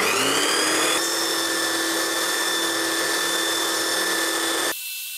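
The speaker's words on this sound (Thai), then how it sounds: "คุณสามารถเอาชิ้นงานมาขัดแบบนี้ได้" A TEH TBS3712 4-inch belt sander runs steadily while sanding a wooden workpiece, producing a loud continuous whine with a shift in tone partway through and a sudden drop near the end, with no talking.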